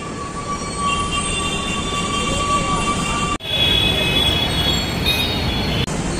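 A Hyderabad Metro train at Secunderabad East station rolls past with a steady rumble and a high, sustained wheel squeal, briefly cut off by a sharp break mid-pass before the running noise resumes at full strength.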